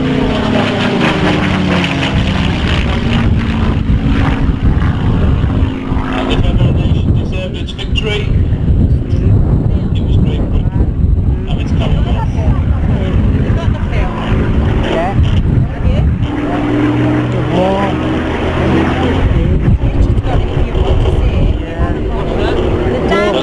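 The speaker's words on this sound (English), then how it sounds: "Famous elliptic wing, the roar of its 12-cylinder Merlin engine" Roar of a Spitfire's 12-cylinder Merlin engine during a flyby at a Yorkshire wartime re-enactment event, loud sustained drone with wind buffeting, swelling and fading, with a voice talking over it.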